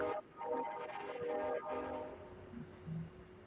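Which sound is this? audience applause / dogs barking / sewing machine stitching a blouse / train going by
train going by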